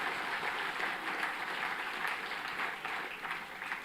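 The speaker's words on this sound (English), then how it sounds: "please give another round of applause for all of our dual degree awardees" A convocation audience claps for dual degree awardees, a steady, moderately distant wash of clapping that holds evenly throughout.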